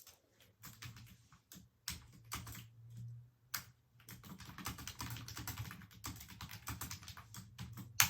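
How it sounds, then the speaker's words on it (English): Quick bursts of keyboard typing, clicks coming in rapid clusters separated by short pauses, close and fairly quiet. "then I am typing back to the student"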